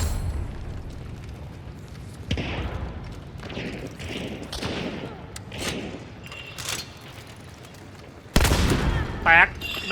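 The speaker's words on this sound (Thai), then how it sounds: "ตายแล้วโดนระเบิด" Several muffled booms and blasts burst out one after another in the game Hunt: Showdown, with a loud explosion near the end, mixed with scattered game noises and brief voices.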